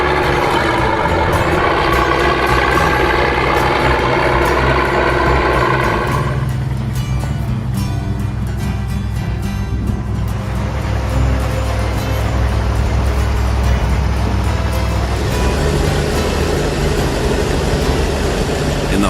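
An Oliver 880 tractor engine runs steadily and loudly up close, a continuous low diesel rumble with a shift in tone partway through, and no talking.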